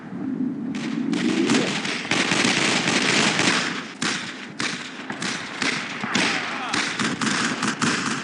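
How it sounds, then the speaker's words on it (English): MG-42 machine gun fire in the World War II video game Brothers in Arms: Road to Hill 30, dense loud bursts of rapid shots mixed with battle noise and other gunfire, with voices shouting over it. "Machine gun! MG-42!"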